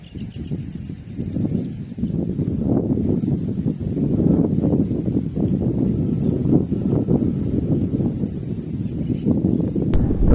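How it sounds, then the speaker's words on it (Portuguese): Steady roaring wind buffets the microphone throughout, a continuous low rumble with gusty surges and no voices, at an outdoor airgun shooting range. "tá ventando muito"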